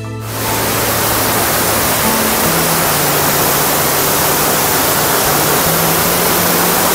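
Sana Ghagra waterfall in Keonjhar, Odisha roars as a steady, loud broadband rush of falling water, constant throughout with a faint low tone underneath.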